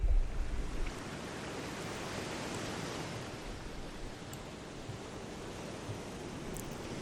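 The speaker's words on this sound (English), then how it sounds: "And we will enjoy the waves together." Steady ocean surf washes in a continuous broadband hiss, even and moderately loud throughout, with a slightly stronger rush at the very start and no voices over it.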